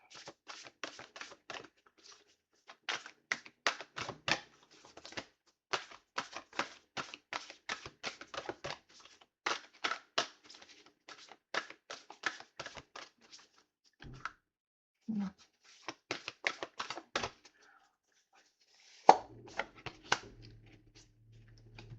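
A long run of quick, crisp papery flicks and riffles as tarot cards are shuffled, coming in bursts with brief pauses, close up and fairly quiet.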